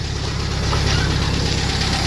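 A rebuilt single-port 1600 car engine idles steadily and smoothly up close, with a constant low, even rumble and no talk over it.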